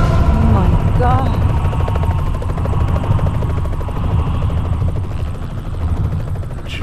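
A helicopter in the video game Splinter Cell: Conviction thrums loudly and continuously with deep, rapid rotor chop, while voices speak over it.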